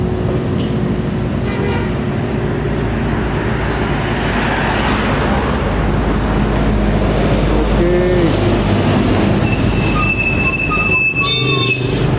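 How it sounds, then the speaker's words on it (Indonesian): An MGI bus from Sukabumi climbs uphill from Cipatat toward Padalarang, giving a continuous heavy engine rumble that sits close by. Squeals and whines rise faintly over the roadway noise. "bus MGI dari Sukabumi ya, menuju ke arah Bandung. Menanjak dari Cipatat menuju ke Padalarang"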